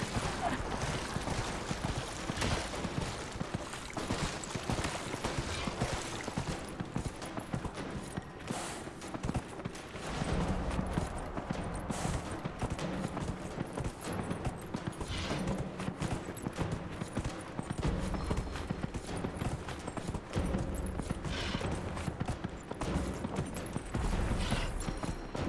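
Horse hooves gallop in a race in the video game Dragon Age: Inquisition, a steady, dense drumming of hoofbeats mixed with other busy game sounds throughout.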